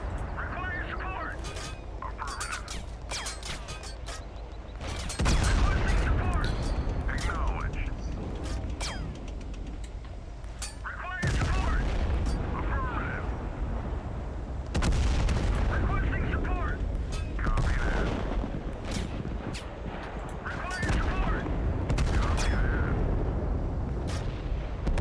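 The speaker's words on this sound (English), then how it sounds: "Just fire artillery out the barrel of our gun." Tank gun artillery fire in the video game Total Conflict: Resistance, a series of deep booming blasts and rumbling impacts over continuous battle noise, loud and close, while someone talks throughout.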